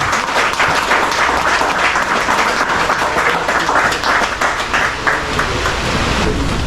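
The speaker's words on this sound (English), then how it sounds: "Let's give these guys one more big applause right now." Loud, dense applause from a crowd honoring winners at the Mr. Crappie Invitational fishing tournament, a continuous roar of clapping close by.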